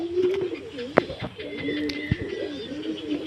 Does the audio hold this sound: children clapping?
no